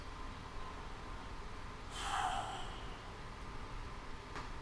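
A slow, deliberate breath drawn in and let out during a gentle yoga session, a single soft rush of air rising around the midpoint over a quiet room with no talking.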